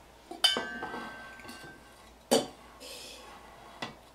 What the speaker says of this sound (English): Taking the spoon I used for developer, which I can't use for developer again, we're gonna mix up the stop bath